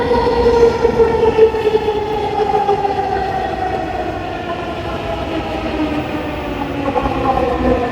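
A Dhaka metro train rolls in loudly with a rising and falling electric whine and rumbling wheels, steady and close, no voices.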